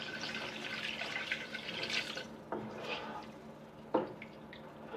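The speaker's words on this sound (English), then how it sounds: "so I'm adding 3 cups of water" Water runs and splashes into a cooking pot for rice for mushroom biryani for a few seconds, with a light clink near the end and faint talk in the background.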